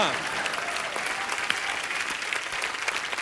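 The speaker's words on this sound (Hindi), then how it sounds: "जोरदार तालियां।" Loud, dense applause from a TV comedy show studio audience, steady clapping filling the whole stretch with a faint voice beneath.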